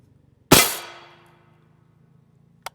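A single sharp metallic clang as a rifle round from a 10.5 inch SBR strikes a steel armor plate, ringing out and decaying over about a second, followed by a faint distant tap.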